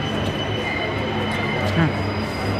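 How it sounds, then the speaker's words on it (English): A continuous low rumble of a train rolling past, with a faint metallic squeal partway through, filling the background steadily. "you just say it louder, come up here, the train's in the way."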